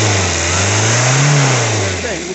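A car engine being checked for a radiator coolant leak runs loud and close. Its steady note climbs in a gentle rev midway, then eases back toward idle.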